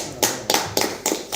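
Five sharp hand claps land in a slow, even rhythm, close and fairly loud, each a crisp burst with short quiet gaps between, no voices heard.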